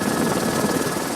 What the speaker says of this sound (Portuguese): O helicóptero pega a água do rio e vai em direção às chamas.